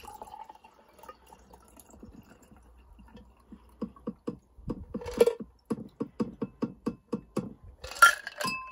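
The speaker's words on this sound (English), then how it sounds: "then I think we just pour it into the glass" Cocktail from a Twistails shaker poured into a glass, heard as a quick run of regular liquid drips and splashes with light glassy clinks, moderately close and with no talk.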